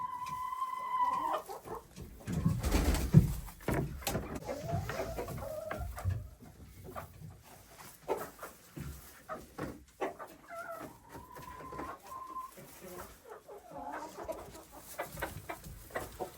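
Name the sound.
chickens clucking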